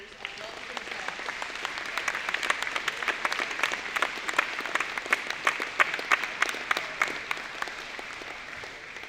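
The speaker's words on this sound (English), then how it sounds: "Please join me in a round of applause congratulating all of our seniors on a well-deserved scholarship." An audience at a high school award ceremony gives a steady round of applause for seniors receiving scholarships. Many hands clap, moderately loud and continuous, rising slightly and then tapering off over several seconds.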